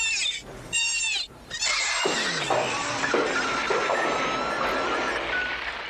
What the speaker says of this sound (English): That was a bunch of shattering TVs